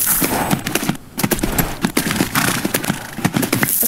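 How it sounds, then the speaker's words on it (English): Horse hooves in the game Tales of Rein Ravin clop in a quick, steady rhythm, loud and close, with a brief pause before the gait resumes. "Okay, this horse is getting ahead of me."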